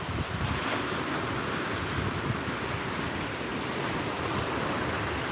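Ocean surf with waves breaking continuously, a steady loud roar of water and wind noise filling the whole stretch with no voices.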